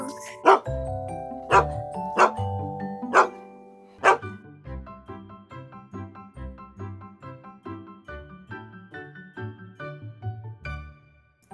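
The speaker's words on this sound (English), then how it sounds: "Dog. Dog." Several sharp dog barks ring out in the first few seconds, spaced irregularly, then give way to a light, steady melody played over a soft bass line.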